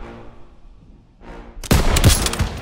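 Gunfire from the Call of Duty: WWII video game, a quiet lull and a rising whoosh followed by a loud close burst of shots with rumbling booms.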